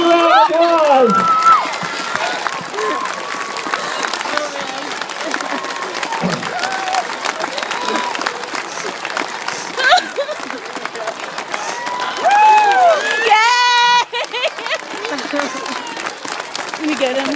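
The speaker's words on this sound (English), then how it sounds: "Let's give him a big round of applause." A crowd at a homecoming for soldiers back from Afghanistan greets a Marine Corps master sergeant with applause, cheers and children's shouts, a busy rolling roar with voices calling out and a brief louder burst near the end.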